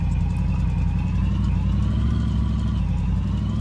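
Ford B200 junkyard pickup truck engine running in the video game My Garage, a steady, loud mid-range engine drone with a low rumble and slightly shifting tone throughout.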